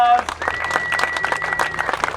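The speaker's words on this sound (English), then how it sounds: "So let's give him a round of applause." A crowd at an outdoor Gambler 500 off-road event applauds a trophy winner, a brisk, uneven scatter of hands clapping, fairly close, with voices chattering underneath and a faint steady tone in the background.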